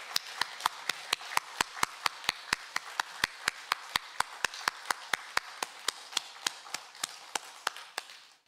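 Rhythmic unison clapping from a church congregation at a Sunday worship service, steady loud claps about four per second, sharp and even, continuing throughout with no talk over them.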